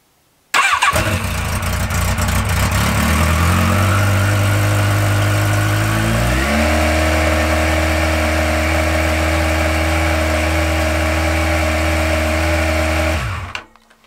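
A Yamaha XJR motorcycle engine cranks and catches, revs up loudly, then settles into a steady, rumbling idle before cutting off abruptly.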